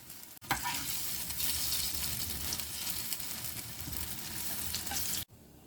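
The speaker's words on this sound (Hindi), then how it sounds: "इसी तरह से सबको फ्राई कर लेंगे।" Mat bean (moth dal) kofta balls deep frying in hot oil in a kadhai, a steady loud sizzle and bubbling hiss that runs continuously before cutting off abruptly, with no talking.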